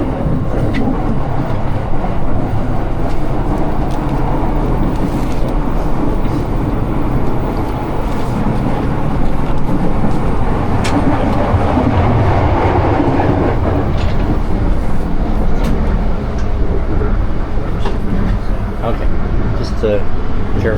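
A train at Tokyo Station gives a loud, continuous rumble with rolling wheel noise and occasional clicks and rattles, heard from on board over a constant ventilation-like hum, with voices faintly mixed in.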